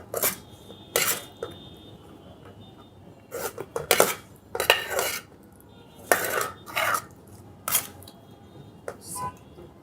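Dishes and cutlery clink as mutton matka dum biryani is served in a restaurant, a string of sharp, bright clatters spaced irregularly and fairly close over a low background murmur.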